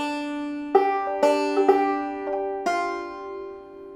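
Two-finger thumb-lead banjo plays a measure of Pretty Polly, bright plucked notes mostly on open strings with a fretted note near the end, sounding in an even picking rhythm, close and solo with no talk.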